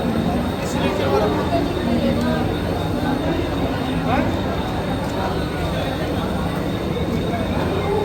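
Continuous rumble of a moving passenger train in the Konkan region, loud and steady, with people talking nearby.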